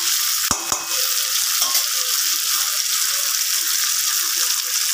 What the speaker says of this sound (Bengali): এটা এত কষে কষে নেড়ে করতে হয়